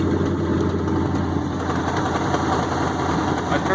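A 1965 International Loadstar truck engine idles steadily after its first start, a loud, continuous low rumble with an even mechanical beat and no voices.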